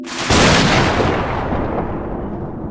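A loud crack of thunder from a lightning storm erupts close by and then rolls away in a long, broad rumble that fades gradually, with no voices over it.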